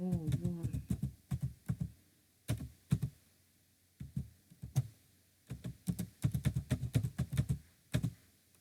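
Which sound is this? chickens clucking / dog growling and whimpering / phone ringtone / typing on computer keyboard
typing on computer keyboard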